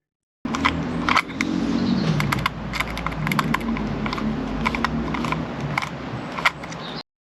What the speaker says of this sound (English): So, yeah, I'm going to undo these screws.